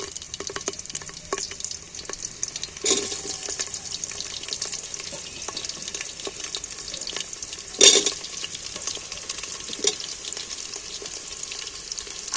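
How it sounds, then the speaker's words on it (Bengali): Diced potatoes fry in hot oil in a pan, giving a constant crackling sizzle, close and steady, with a couple of sharper bursts as pieces are stirred or moved. "ডুমো ডুমো করে কেটে রাখা আলুগুলো আমি তুলে দিচ্ছি তেলের মধ্যে"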